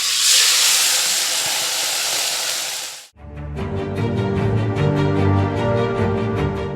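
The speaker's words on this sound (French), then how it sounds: "Nous allons maintenant passer à la friture de nos poulets." Chicken fries in hot oil with a loud, dense, steady sizzle for about three seconds, then cuts abruptly to a different, more tonal sound.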